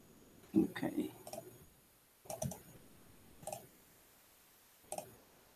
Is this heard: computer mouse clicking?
yes